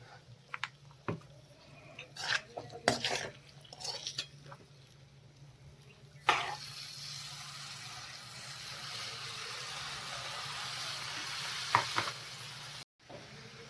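Fenugreek leaves stirred into a pigeon pea curry in a pan: scattered scrapes and clinks of a spoon at first, then a steady, soft sizzle that swells after the leaves go in, close and quiet with no talk.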